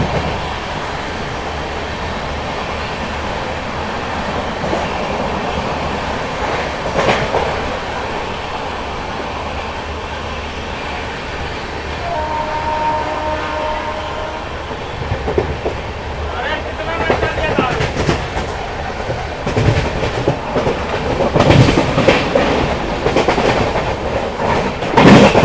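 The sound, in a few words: Amritsar Shatabdi Express train running through Kurukshetra Junction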